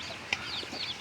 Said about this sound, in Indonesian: ternyata anak ayamnya cukup banyak yang ditetaskan